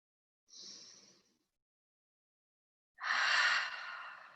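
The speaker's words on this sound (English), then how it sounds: "take a nice big deep breath in through the nose" Two slow, deep breaths drawn in through the nose during a winter solstice meditation, the first soft and short, the second fuller, louder and longer, both close with silence between them.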